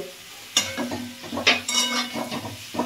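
Cumin, coriander and turmeric powder with salt frying in a little oil in a pan for a Bengali greens dish with hilsa fish head; a soft sizzle runs under close, intermittent spoon stirs and scrapes against the pan.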